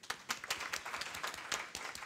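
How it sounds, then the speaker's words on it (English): An audience applauds the panelists after a UNESCO discussion on indigenous languages, a moderately faint spell of clapping with distinct individual claps in an uneven rhythm. "a big round of applause for Misako and all the panelists"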